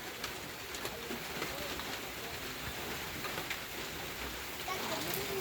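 Rain falls steadily outdoors as a soft, constant hiss with scattered drops. A pigeon coos faintly in the background.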